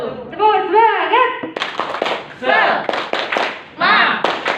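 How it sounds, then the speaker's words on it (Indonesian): An audience at a teachers' training session performs a rhythmic spirit clap, short bursts of patterned clapping with chanting voices mixed in between the claps. "Tepuk semangat."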